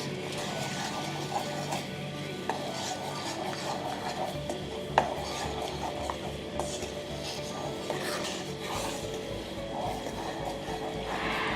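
Peanuts and jaggery being stirred together in a pan, giving a steady close scraping and rubbing with occasional clinks of the spoon against the metal, continuous throughout.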